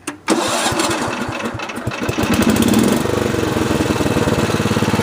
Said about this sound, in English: Let's fire this sucker up.